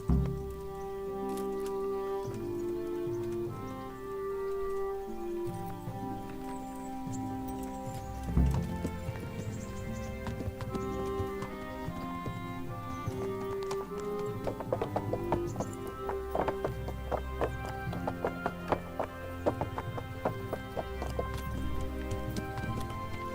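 Horse hooves clip-clopping at a steady rhythm beneath layered music in the video game Kingdom Come: Deliverance, continuous from start to end.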